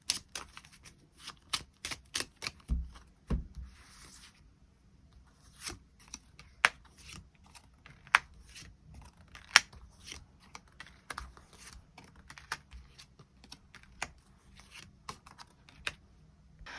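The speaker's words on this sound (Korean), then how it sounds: "카드 뽑아보도록 하겠습니다." Tarot cards being shuffled and drawn, giving a series of crisp, close riffles and flicks spaced irregularly across a quiet background, with no talking.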